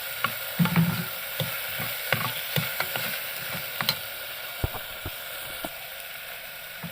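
Chopped tomato is stirred into onions and green chilli frying in a pan for a Kerala-style potato curry: soft, irregular scrapes and knocks of a spoon over a faint steady sizzle, close by, with no voices.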